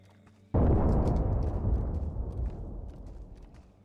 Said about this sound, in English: That had to have been like a mine or something. Or M79 shot.